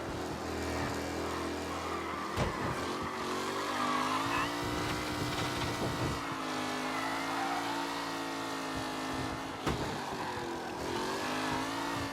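Race cars roar through a race in Mafia Definitive Edition, with continuous close engine drone, shifting revs and a few sharp transients, steady and moderately loud.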